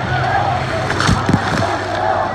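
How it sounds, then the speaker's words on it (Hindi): Waves from the wave pool at Sunway Lagoon water park slosh and splash with a few sharp bursts, while a voice talks briefly over the noise of the pool. "लहरें आ रही"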